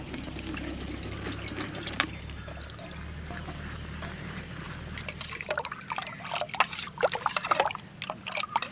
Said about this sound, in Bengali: কষলানোর পর এখন আমগুলো চালনের সাহায্যে চেলে নিচ্ছি